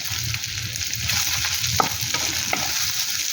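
Chilli chicken stirred in a hot pan with chopped green chillies and Kashmiri chillies, a steady close sizzle with a few sharp spoon scrapes against the metal and no speech.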